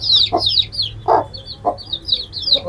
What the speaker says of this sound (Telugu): కోడి పిల్లలు చూపిస్తా.